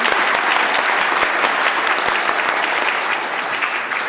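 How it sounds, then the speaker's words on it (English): Members of a legislative assembly chamber clapping together in a warm round of applause, dense and steady for several seconds and tapering slightly at the end, with no speech over it. "Would the House please give them a big round of applause and make them feel very welcome?"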